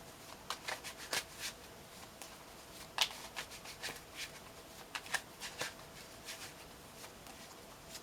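Tarot cards being shuffled by hand, a quiet, close series of soft riffling flicks and light slaps spaced irregularly over a faint background hiss, with no talking.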